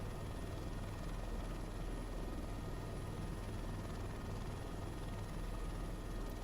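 Helicopter hovering at the end of a flight near an airfield, a steady, close, continuous rotor and engine drone with no breaks or voices.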